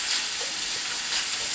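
Sausage browns in a cast iron pan for dirty rice, giving off a steady, close sizzle and crackle that holds evenly throughout with no voices.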